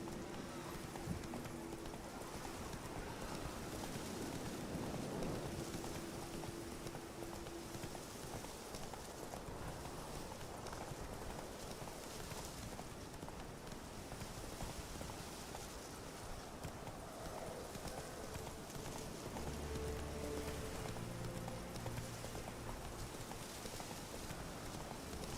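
Hooves of Roach, a horse in The Witcher 3, clop in a steady galloping rhythm throughout, fairly faint and mixed with continuous outdoor game ambience, with occasional soft background tones.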